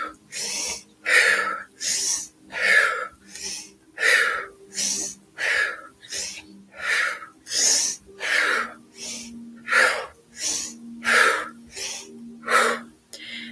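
Deep, even yoga breaths repeat in a slow steady cycle of roughly a dozen audible inhales and exhales, close and breathy, with no talk.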